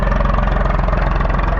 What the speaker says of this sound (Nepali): दिस इज यसको ट्र्याक्टर हो गाइज